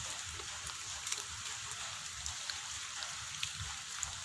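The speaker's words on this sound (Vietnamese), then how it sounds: "Mưa xình quá" Heavy rain falls in a steady, dense hiss at moderate loudness, with scattered sharper drops pattering through it outdoors in Cho Gao, Tien Giang.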